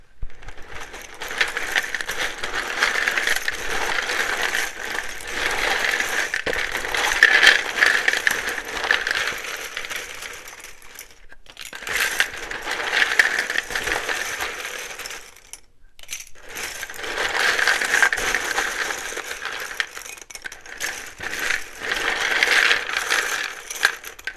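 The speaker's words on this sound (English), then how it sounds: "It can be very loud when I shuffle these." A deck of tarot cards being shuffled, giving three long stretches of dense rustling and flicking with short pauses between them, fairly loud and close, with no voice over it.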